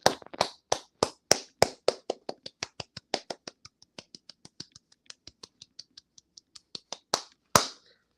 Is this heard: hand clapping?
yes